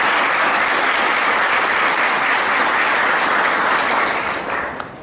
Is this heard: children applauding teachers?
yes